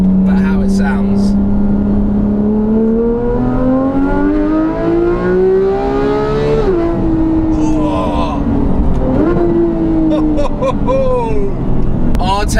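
A Porsche with an IPE decat exhaust idling loud and close, climbing into rising revs and dropping back, with a deep, raspy exhaust note and crackles near the end.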